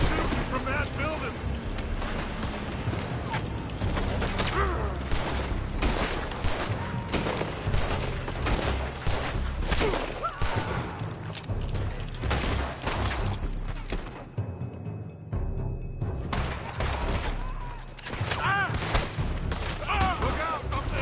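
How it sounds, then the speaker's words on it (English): Sustained gunfire rages from a building in Red Dead Redemption 2, with dense, overlapping shots and bursts cracking nearly nonstop, a brief lull midway, and voices calling out beneath the barrage. "They're shooting from that building!"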